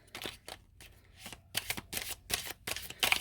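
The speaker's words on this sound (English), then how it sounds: "Let me pull some of these tea leaf cards." Tarot tea leaf cards rustle and flap as they are shuffled and pulled, a close run of quick papery riffles and slaps coming in uneven bursts with short pauses.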